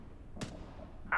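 A frag grenade explodes in the video game Rainbow Six Siege: one short, sharp blast in an otherwise quiet scene, followed a moment later by a brief, bright burst of noise.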